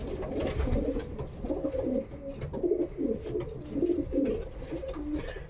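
Pigeons coo in a loft, steady overlapping throaty coos close by and moderately loud, with no talking.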